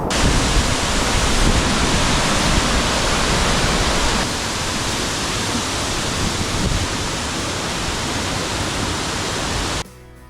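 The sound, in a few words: waterfall rushing after recent rain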